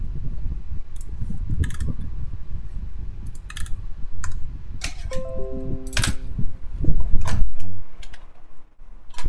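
Rapid clacky keystrokes on a PC910 polycarbonate mechanical keyboard, picked up close on a lav mic, with irregular bursts of typing, a few sharper clicks and a faint background hum.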